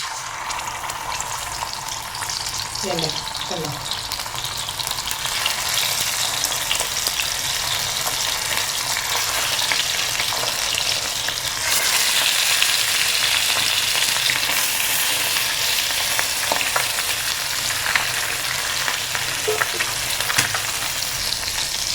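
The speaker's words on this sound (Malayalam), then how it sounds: "നമ്മുടെ അതിലെ മീൻ തലയാണ് കേട്ടോ വറുത്തത്" Steady, dense sizzling of a mackerel fish head frying in hot oil, crackling throughout, with occasional scraping or stirring sounds and a few brief clinks.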